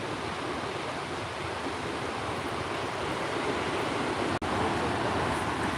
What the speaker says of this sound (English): Still looking at some big waves out here kicking up.